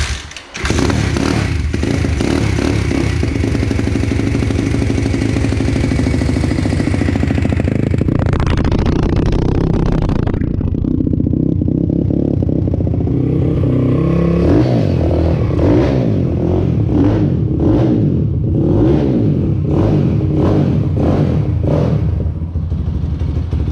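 An Apollo RFN 140cc pit bike engine fires up and revs hard, close and loud, then drops to a rough idle punctuated by repeated sharp throttle blips.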